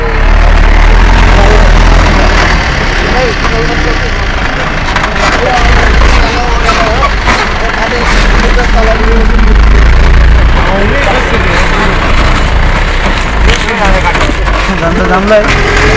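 A truck engine drones loud and steady throughout a long ride, a constant low rumble with rattling, and people talk over it.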